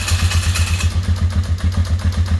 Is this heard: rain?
no